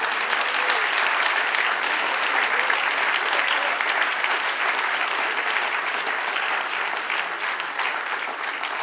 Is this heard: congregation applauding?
yes